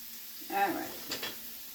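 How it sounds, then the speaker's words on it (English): Kielbasa with beans is stirred in a pot, giving a low background sizzle and a couple of soft scraping, clinking stirs. "You're going to stir that up."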